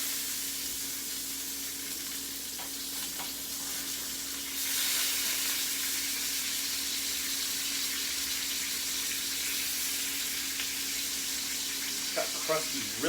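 Steak searing in a hot pan, a steady bright sizzle that swells louder partway through and keeps hissing to the end, close and continuous, with a low hum beneath.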